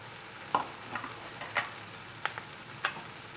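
Collard greens stir-fried with doenjang, soy sauce and green chili pepper: a soft sizzle under several distinct scraping stirs of the spatula at irregular intervals, close and quiet, without talk.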